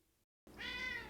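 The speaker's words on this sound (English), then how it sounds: "let the cat out." A domestic cat gives one drawn-out, close meow that rises in strength, following a short silence, with no talk.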